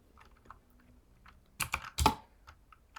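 Typing on a computer keyboard while writing Golang code, with scattered soft keystrokes followed by a louder flurry of quick clicks near the end, close and without talk.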